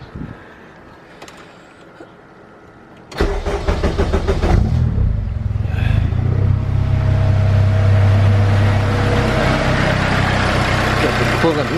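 A project car's engine cranks and starts after a quiet pause, then settles into a loud, steady idle rumble close by, with some clatter near the start.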